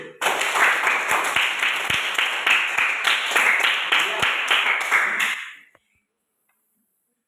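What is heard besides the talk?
applause for a student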